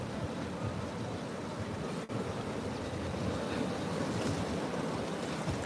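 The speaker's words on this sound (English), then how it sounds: "there's the waves" Steady, loud ocean surf rushes and washes onto a black sand beach on Hawaii's Big Island, a continuous roar with some wind buffeting the microphone and no speech.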